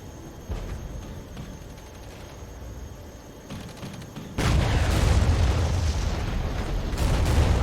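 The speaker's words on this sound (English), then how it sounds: "The bomb sounds so meaty, it's ridiculous." Bombs explode in the Regiments war game, a heavy, meaty boom that sets off a loud, sustained roar of blast and rumble after a quieter stretch of distant battle noise.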